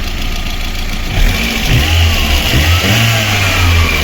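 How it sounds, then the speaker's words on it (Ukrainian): A VAZ 2110 car engine running steadily up close after repair, its low rumble rising and surging as the revs climb, loud and continuous throughout. "Ось так працює двигунчик."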